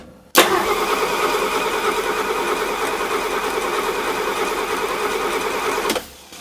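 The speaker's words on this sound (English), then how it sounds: "I like how this really cranks over on that 12 volts." The flathead engine of a 1941 Chrysler coupe cranks over on a 12-volt starter in one continuous, loud, fast whirring run of about five and a half seconds that stops abruptly without catching.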